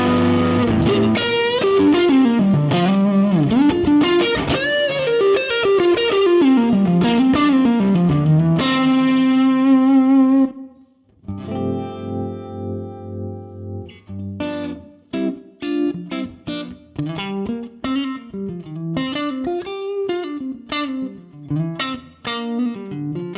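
Electric guitar played through a Fender Super Amp 6G4 brownface amplifier with pedals, giving a mid-heavy, effects-laden distorted tone with chorus-like shimmer; loud, continuous phrases with a brief pause partway before playing resumes.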